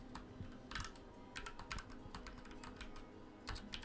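Typing on a computer keyboard, with soft close key clicks in irregular clusters and quick runs, faint and heard alone.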